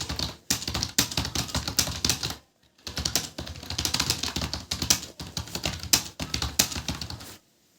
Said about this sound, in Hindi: इस पे ऐसे ही जो लिखा है इसको टाइप करते जाइए और कोशिश करिए कि सही भी टाइप हो और स्पीड से हो